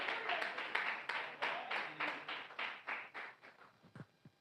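A church congregation claps during a Portuguese sermon. About a dozen slow, rhythmic hand claps in steady time fade toward the end, heard fairly faint.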